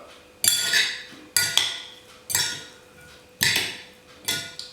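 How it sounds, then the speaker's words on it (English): Beetroot and mint salad mixed in a bowl with utensils, five separate clinking scrapes spaced about a second apart, each a sharp clatter fading quickly, fairly close. "And then we go ahead and mix it up."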